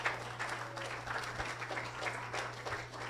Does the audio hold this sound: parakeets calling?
no